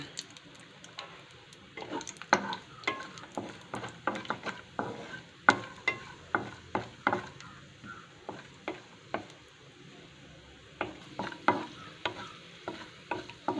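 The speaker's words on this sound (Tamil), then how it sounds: "இப்போ முந்திரி நல்லா ப்ரௌன் கலரில் வறுத்து எடுத்துக்கோங்க" Cashews roasting in ghee in a pan for Chettinad Rangoon kesari, with a spoon stirring in rhythmic scraping strokes over a soft, steady sizzle, close and clear, with no voices.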